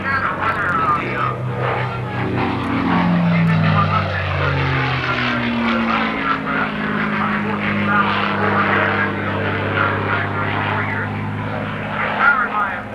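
Propeller aircraft with a 1,490 horsepower Packard engine flying at a 1987 airshow, a loud droning engine roar that rises and falls in pitch as it passes, with people talking over it.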